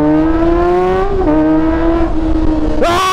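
A 2023 Kawasaki ZX25R motorcycle screams at very high revs, loud and close, its steady wail dipping slightly between gear changes before a sharp upward rev at the end.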